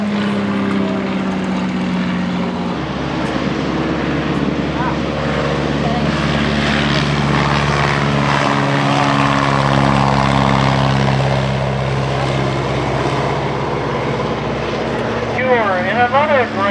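A vintage biplane, a Great Lakes sport trainer reproduction, drones overhead at the Old Rhinebeck Aerodrome, its propeller engine a loud steady roar that shifts in pitch as it passes, with voices talking underneath.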